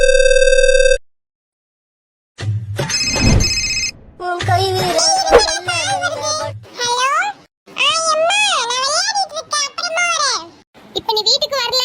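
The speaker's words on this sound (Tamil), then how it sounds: "ஒரு ஃபோன் பண்ணுவோம்." A short electronic ring tone from an outgoing phone call sounds at the very start, with another tonal burst moments later, followed by children and adults talking over the line.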